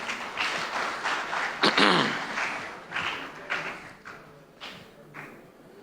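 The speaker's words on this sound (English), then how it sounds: "Another round of applause for our chairman" Applause honouring a chairman at a memorial event, with claps arriving in loose waves of uneven hand strikes, a loud swell near the start that gradually thins out toward the end.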